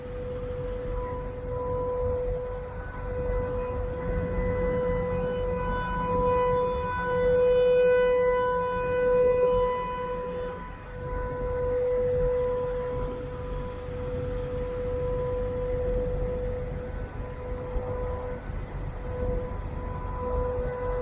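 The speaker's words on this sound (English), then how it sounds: "So that is a tornado siren." A tornado siren sounds steadily for the whole stretch, a loud sustained wail with layered tones that swells slightly in the middle, carrying across open air with no talking over it.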